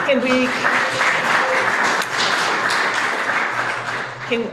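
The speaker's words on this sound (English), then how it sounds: "let me ask that we hold the applause to the end" Steady applause fills the room, a continuous wash of clapping from a crowd that holds at an even level before easing off.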